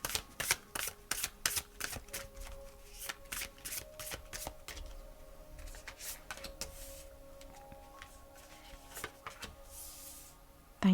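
A deck of cards being shuffled in repeated bursts of riffling and snapping, close and fairly quiet, with a faint sustained tone underneath and no speech.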